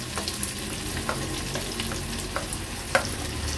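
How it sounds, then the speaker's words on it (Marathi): Finely chopped onion sizzles and fries with ginger-garlic paste in hot oil, a steady dense crackle with occasional pops and stirring scrapes, close and continuous without talk. "नंतर एक मोठ्या साईजचा कांदा बारीक चिरून घेतला आहे तो ऍड करते।"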